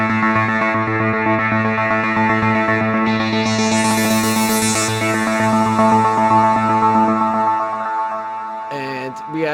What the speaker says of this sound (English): so we're using this Omnisphere sample, and it sounds like this